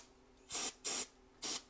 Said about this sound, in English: I'm going to try and just spray this mode control switch.